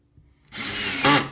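A power drill drives screws into wood while building a camera lucida stand: a steady motor whine starts after a moment of quiet and rises in pitch and loudness near the end as the screw seats.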